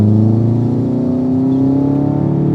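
A Subaru STI accelerates on a damp race track, its engine note climbing steadily in pitch as the revs rise, loud and close from inside the car.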